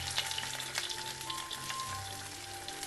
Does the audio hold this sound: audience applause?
no